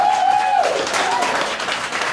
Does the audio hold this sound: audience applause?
yes